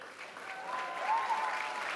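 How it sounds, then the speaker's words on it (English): A school assembly audience for Fremd Writers Week claps steadily and cheers, a dense, sustained wash of applause that swells slightly midway and carries on without pause. "Now keep clapping and making noise for our incredible tech crew."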